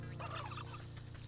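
Turkeys gobble in the Wytchwood video game, producing a rapid, warbling burst over a low, steady hum of background music.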